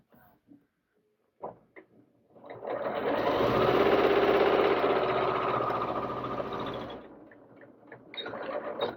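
A sewing machine hems a small doll dress, running in one steady, loud burst of stitching for about four seconds, with brief handling clicks before and after.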